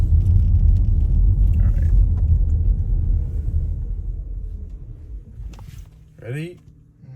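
A 2025 Ford Mustang Mach-E GT electric SUV launching from rest, a heavy low rumble of road and drivetrain noise that builds then fades as the car slows, with brief speech near the end.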